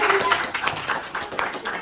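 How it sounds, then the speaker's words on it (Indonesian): A small group claps briefly, a light patter of hands close by, with a voice mixed in. "tepuk tangan buat Mateo dong, boleh."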